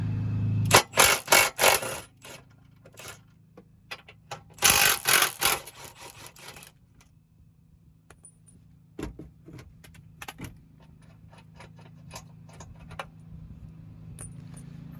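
Bolts on a spare tire hoist being removed one-handed during a trailer hitch install, two bursts of loud metallic rattling and clanking near the start, then scattered quieter clicks and taps, no talk.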